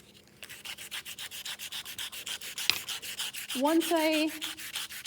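Hand sanding a surface to remove cross scratches, a steady rhythmic rasp of back-and-forth strokes close up, with a brief voice near the end.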